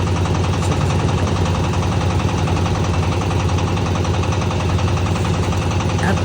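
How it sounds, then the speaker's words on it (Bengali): Small trawler boat engine chugging steadily on Kaptai Lake, a loud, continuous low throb with a rapid mechanical rhythm that holds unchanged throughout, with no voices. "এখান দিয়ে অজস্র ট্রলার যাতায়াত করে"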